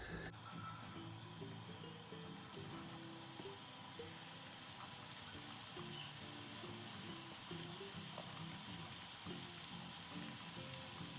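Shredded cabbage fries in sunflower oil in a hot pan on high heat, a continuous, steady sizzle with a soft crackle. A faint background hum runs underneath and no one speaks.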